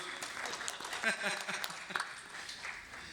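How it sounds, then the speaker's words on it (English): Audience applause at a finance industry panel discussion on cash and FX risk management, a moderate steady patter of clapping from a seated crowd, fairly soft and distant, lasting a few seconds. "A big round of applause to Arup."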